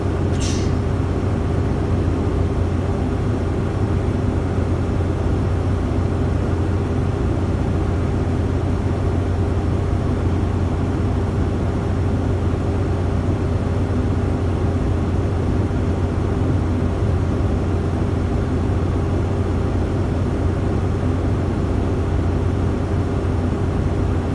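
A truck engine held on the throttle runs as a continuous, heavy, low droning rumble close by, with no break or change in its steady tone.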